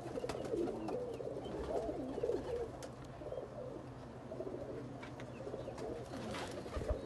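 Breeder pigeons in a loft in Faisalabad coo steadily and continuously, a soft murmuring chorus that stays close and even throughout, with no voices.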